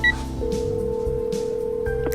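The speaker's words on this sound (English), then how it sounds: "I move to a quiet corner and dial Yuna's number" A phone number is dialed in a video game, with a quick run of distinct keypad tones at a steady clip, loud and close, with no talking.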